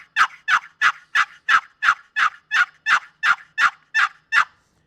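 A wooden turkey box call imitating an old hen, producing a loud, close series of about thirteen evenly spaced raspy yelps in a steady rhythm, alone with no talk.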